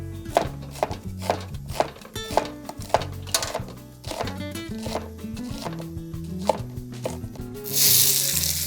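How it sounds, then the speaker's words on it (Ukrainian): A knife taps rapidly on a cutting board finely chopping onion in a steady rhythm, close up, with music playing underneath. "Дрібно нарізаємо цибульку."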